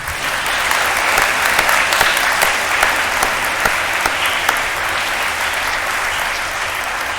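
Loud, sustained applause rolls through a crowd at a high school Marine Corps JROTC birthday celebration honouring the cadets, a thick continuous patter of many hands that holds steady for several seconds without any talking.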